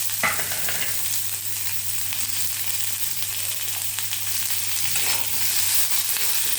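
Onion, green chilli and tomato sautéing in a pan for brinjal kuzhambu, a steady close sizzle with occasional stirring scrapes over a low constant hum.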